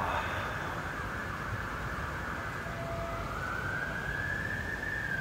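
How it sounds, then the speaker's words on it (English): An emergency vehicle siren wails outside, faint and distant, its rising tone sweeping over a constant hiss of traffic and room noise. "oh, hang on, there's a siren"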